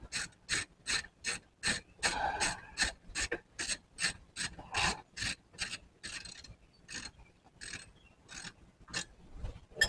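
A ratchet wrench working on a Formula Firebird project car, rapid rhythmic clicking strokes repeated steadily and close by, with no talking.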